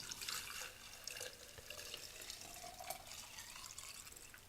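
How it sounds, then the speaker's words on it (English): Petrol pours steadily into a container at close range, a continuous splashing gurgle with no talking. "Now this is petrol. Lovely. So let's pour it in here."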